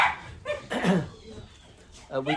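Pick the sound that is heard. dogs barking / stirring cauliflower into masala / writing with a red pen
dogs barking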